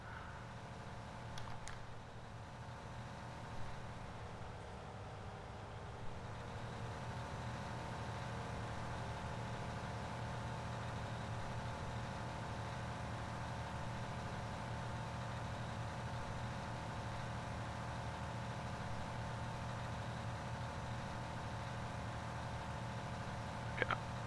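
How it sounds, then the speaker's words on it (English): A big tractor engine labouring up a hill in Farming Simulator 19 on a South Brazilian map, a steady, faint low drone that holds an even pitch throughout with no other sounds. "that's why I took the biggest tractor I have"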